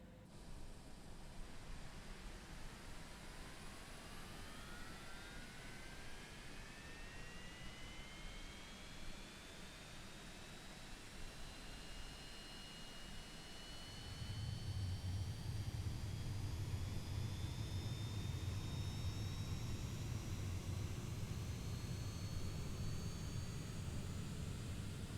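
Engine number 2 of a Cessna Citation X (C750) jet starts up with a rising turbine whine that climbs steadily in pitch, then a deeper, louder roar joins in and stays steady.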